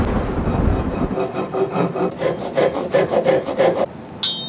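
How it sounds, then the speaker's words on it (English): Hand saw cutting through wooden stems of a workpiece turned on a 4th-axis CNC, a steady back-and-forth rasping rhythm of close strokes that speeds up, then stops with a brief high squeak at the end. "Cut the stems using my handy saw here."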